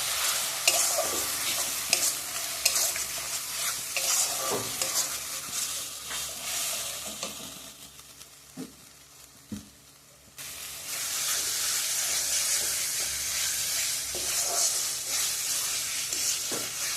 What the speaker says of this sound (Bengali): পেঁয়াজ রসুনটা একসঙ্গে একটু ভেজে নিয়ে